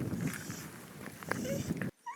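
A wolf-dog gives soft, high whimpers and whines rather than barks, heard outdoors during a group walk as a few brief thin cries over faint rustling and movement, fairly quiet, cutting off abruptly near the end.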